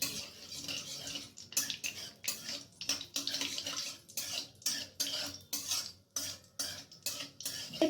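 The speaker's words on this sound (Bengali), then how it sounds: "এরপর আমি 2 সেকেন্ডের মতো নাড়াচাড়া করে নিচ্ছি।" Mustard seeds and a dry chili stirred in hot mustard oil, heard as a quick, regular run of spoon scrapes and clinks against a pan over a faint frying hiss.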